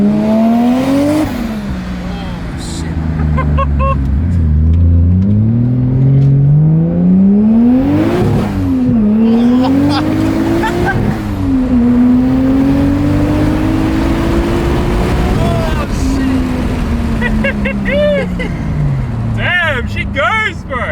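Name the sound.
1JZ-engined Toyota Chaser accelerating under boost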